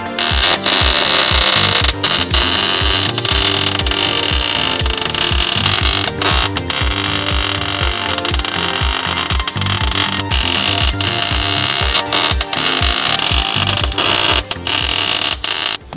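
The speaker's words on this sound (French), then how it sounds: "on va grinder, on va préparer dans le fond la surface qu'on va souder" A grinder works on roll cage metal before welding, loud and close, a harsh continuous grinding with rapid rhythmic pulsing and a few brief cut-offs and restarts, and no voices over it.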